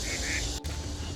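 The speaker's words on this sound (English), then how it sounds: "With some duckies." Ducks quack at a pond, a short burst of calls against steady outdoor background noise.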